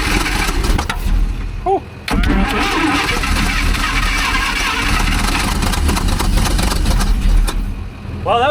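An Allis Chalmers forklift engine cranks and fires unevenly, catching on only some cylinders. The loud, rough, uneven running stays close, with a few brief voices over it.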